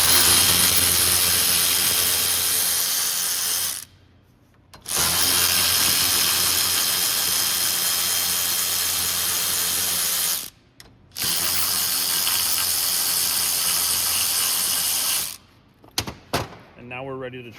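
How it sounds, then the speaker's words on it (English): Ratchet removing 13 mm bolts from the power steering pump bracket of a 2016 Jeep Wrangler JK 3.6L: long runs of loud, rapid clicking near at hand, broken by two brief pauses, ending with a few clanks. "we need to take these 13 millimeter bolts out"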